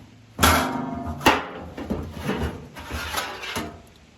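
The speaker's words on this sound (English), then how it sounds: "Pull this grate out. Pull the baffle plate out." A metal grate and a baffle plate pulled out of a Super 55 drum smoker, a few loud close clanks and scrapes of metal, then lighter rattling and knocks, no talk.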